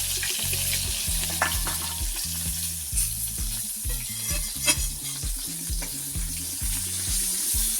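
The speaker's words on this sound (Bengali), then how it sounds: "এবার আমি এই তেলের মধ্যে বেগুনটা দিয়ে দিচ্ছি।" Eggplant fries in hot oil in a pan with a steady, close sizzle and crackle, while rhythmic low knocking runs underneath; no one talks.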